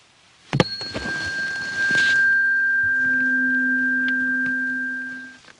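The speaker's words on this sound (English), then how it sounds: "A tuning fork." A struck tuning fork rings with a pure, steady tone that slowly fades, after a light knock.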